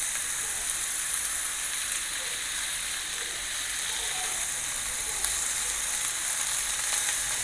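Garlic sautes in a hot pan with a steady, dense sizzle and crackle that holds evenly throughout, close and continuous with no talk over it.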